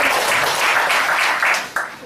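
A short burst of audience applause during a product demonstration, with dense clapping from a room full of people that continues for about two seconds.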